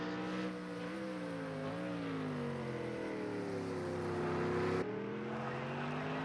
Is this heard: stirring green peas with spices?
no